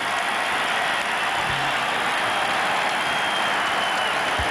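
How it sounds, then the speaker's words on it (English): A sellout Staples Center crowd at a 2002-03 Wizards at Lakers NBA game gives Michael Jordan a standing ovation, a continuous wash of distant applause and cheering that holds at an even level. "And Doug Collins brings Michael Jordan out of the game to a standing ovation from the Staples Center sellout crowd."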